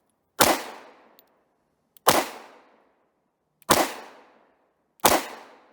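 Four sharp gunshots from a Romanian TTC Tokarev pistol firing 7.62x25mm rounds at a range, evenly spaced about one and a half seconds apart, each loud crack followed by a short decaying tail into silence.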